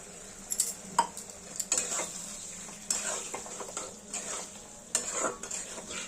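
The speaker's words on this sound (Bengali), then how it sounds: "এবার আমরা সেদ্ধ করা আলুগুলো দিয়ে দেবো এর মধ্যে দিয়ে ভালো করে কষিয়ে নেবো" Boiled potatoes stir-fried in masala for Kashmiri dum aloo, with soft scraping stirs, faint sizzling and occasional utensil clinks against the pan at a moderate, steady level.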